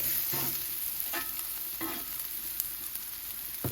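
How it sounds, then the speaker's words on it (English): Steak frying on a hot Blackstone griddle for cheesesteak, giving a steady broadband sizzle with a few scraping spatula strokes, close and continuous, no voices. "we're going to cook the steak part of the cheesesteak"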